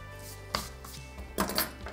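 Scissors snipping fabric corners around a pot-shaped appliqué piece for a quilt block, with two or three crisp, close cuts separated by short pauses on a quiet tabletop.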